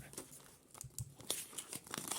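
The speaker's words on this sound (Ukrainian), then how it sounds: "Давайте відкриємо зараз пакетик." A paper surprise packet with a Minecraft collection theme is torn open, giving soft, quiet crinkling and rustling with a few small tearing sounds over about two seconds, heard alone.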